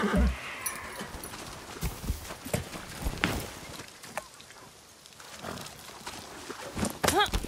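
Horse hooves clop unevenly on hard ground in the video game Far Cry 6, with a scattering of thuds and a short snort-like sound near the end.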